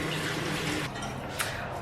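Tap water running into a sink while a clay face mask is rinsed off, a steady close splashing flow that stops briefly near the end.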